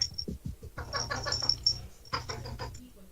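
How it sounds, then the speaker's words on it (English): A female cat in heat gives a run of short, clucking, chicken-like calls, several quick bursts followed by a longer caterwauling stretch, close and moderately loud. "Your cat sound like a chicken."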